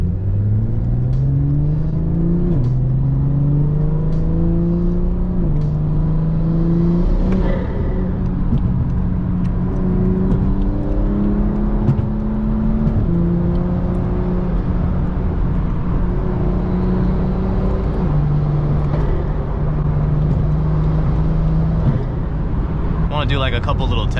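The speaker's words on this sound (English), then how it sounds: "Do like a couple little test hits because I want to make sure it's good" BMW M4 engine revving during test hits, with a droning exhaust note that rises and falls in several steady steps, loud and close, continuing for over twenty seconds.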